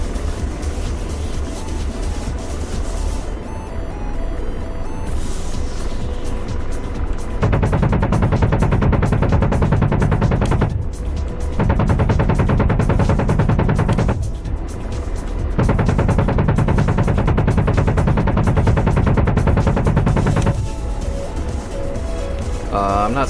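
Sustained cannon fire from an attack helicopter in a combat video game, long loud rattling bursts repeated several times with short pauses between them over a constant engine drone.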